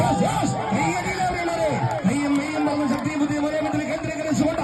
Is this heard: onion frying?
no